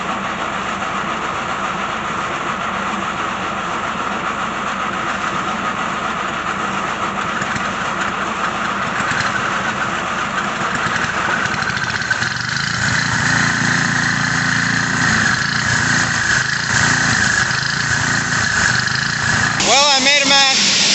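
An engine-driven antique AA 451 Lenz burr mill with a homemade auger grinds corn, a steady loud mechanical drone and rumble with a shifting grind partway through. A rising whine comes near the end.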